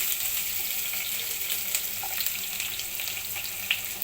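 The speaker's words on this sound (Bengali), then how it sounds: "একটা কড়াইতে তেল দিয়ে দিলাম এখন আমি এখানে দিয়ে দিলাম হচ্ছে পেঁয়াজ" Onion sizzles in oil in a wok, a soft, steady frying hiss with scattered small crackles, fairly faint and without talk.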